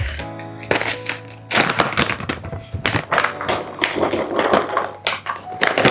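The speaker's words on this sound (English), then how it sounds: "The last thing I need to cut is the garlic" A knife chops garlic on a cutting board with rapid, uneven taps and thuds up close. Short bursts of strokes come one after another, with a faint hum underneath.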